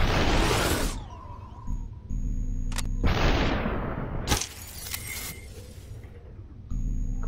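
Pistol shots in the SUPERHOT game go off as a few loud, sharp bursts, some with trailing rumble, separated by quieter stretches of game ambience.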